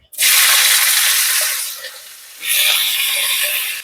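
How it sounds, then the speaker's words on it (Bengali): Bitter gourd and potato pieces hitting hot oil in a wok, a sudden loud hissing sizzle that fades, then surges again when the pieces are moved, close and without talk. "এই তেলেতে আমি উচ্ছে আলুটাকে একটু ভেজে নেব"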